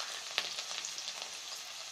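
Onions frying in a hot pan for tempering, a faint steady sizzle with small crackles and one soft clack, heard alone.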